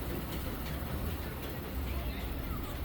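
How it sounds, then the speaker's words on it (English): The Disneyland Railroad train ride rolls along, a dense, steady rumble and rattle of the rail cars close by that persists unbroken throughout, with faint voices mixed in. "So I got on the train to see how that looks"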